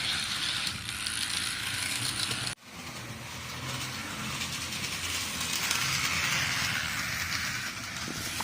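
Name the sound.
model train engine running on track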